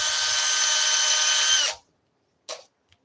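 A power drill whines steadily at close range for a couple of seconds drilling wood, then stops, followed by a short clack.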